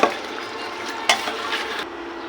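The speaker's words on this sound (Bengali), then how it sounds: "মাছটা একটু কষিয়ে নিই" Fish is stir-fried in a pan with a steady close sizzle. Spatula scrapes and a sharp clatter near the middle punctuate it, then it quietens toward the end.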